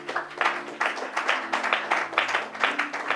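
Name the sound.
congregation applauding at a Bible teaching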